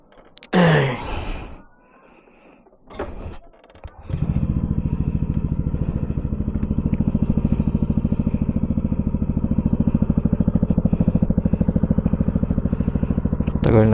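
A Yamaha Aerox 155 V3 scooter engine starts after a few clattering sounds and then idles steadily close by with a smooth, even putter.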